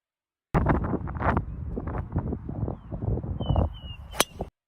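Gusty wind buffets the microphone outdoors in irregular thumping bursts and rumbles with a few sharp cracks, loud and close, with no speech.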